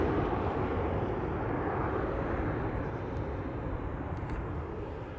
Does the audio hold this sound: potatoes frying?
no